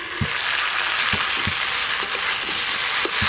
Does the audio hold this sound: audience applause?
no